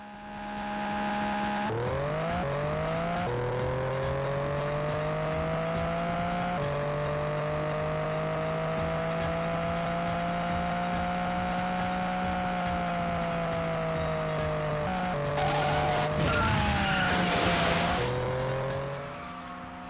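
Racing cars in the PlayStation game Ray Tracers weave through traffic: a sustained, loud, whining engine drone rises and falls with gear shifts. Near the end comes a burst of tire squeal or crash noise, with no talk.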